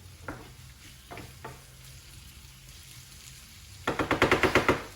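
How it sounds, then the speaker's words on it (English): Onions and chorizo fry in a pan on a stove, stirred with soft scraping strokes over a steady sizzle, ending in a quick run of louder rhythmic scrapes and clatters near the close. "I want to stir this up for a couple of minutes, obviously till your onions are nice and soft"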